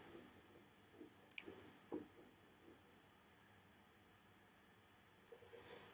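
Faint computer mouse clicks on a quiet desk: a few sharp isolated taps, one clearly louder, then another soft click near the end, with low background hiss between.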